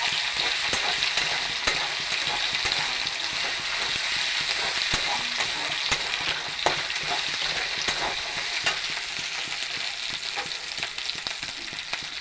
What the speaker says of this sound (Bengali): মশলার কাঁচা গন্ধটা যাওয়া পর্যন্ত ভেজে নেবো।